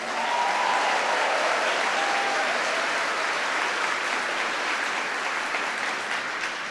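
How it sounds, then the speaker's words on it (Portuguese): Church congregation applauding during a Catholic sermon, a sustained, even roar of many hands clapping for several seconds, tapering slightly near the end. "Agora eu e você que estamos aplaudindo"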